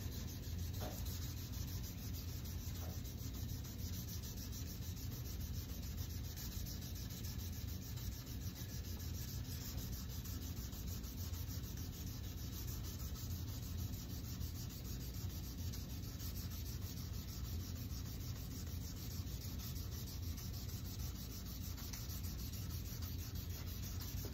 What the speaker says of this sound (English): 2000 grit's not doing a whole lot more than what the 15 did.